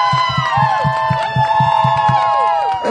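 A crowd at a Miami FC soccer match in Atlanta cheers and whoops loudly and continuously, a dense roar with rhythmic stomping or clapping beats and shouting voices throughout.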